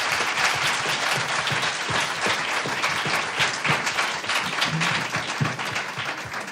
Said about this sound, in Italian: So we need an applause.